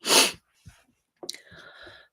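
A single sharp, loud sneeze bursts out close up, followed by a brief pause and then a soft breathy exhale with faint sniffing.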